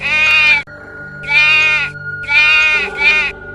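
A sheep bleats in The Sims machinima, four loud, close, wavering cries with short pauses between them, the last two coming in quick succession, with no talking over them.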